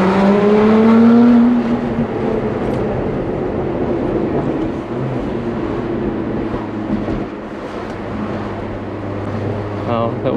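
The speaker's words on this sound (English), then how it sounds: "Great sounding car." A loud Lotus Emira prototype sports car engine roars and revs near the listener while accelerating, pitch climbing then settling into a steady drone, with brief muffled voices near the end.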